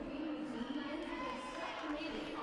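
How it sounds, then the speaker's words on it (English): A large crowd fills the Devaney Center arena during a Michigan at Nebraska gymnastics meet, giving off a steady, distant murmur of chatter and cheering with no single voice standing out. "Great crowd on hand here inside the Devaney Center."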